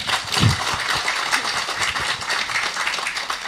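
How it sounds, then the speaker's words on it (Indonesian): Applause at an Islamic religious gathering (pengajian) in Indonesia, a broad steady wash of clapping from a crowd that holds evenly for a few seconds, with faint voices mixed underneath. "Tepuk tangan tuh Mbak Flah"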